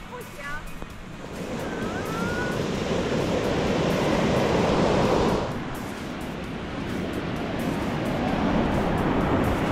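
Ocean waves break on a steep beach in a continuous, loud roar of surf that swells and briefly eases midway, with wind buffeting the microphone and faint voices in the background.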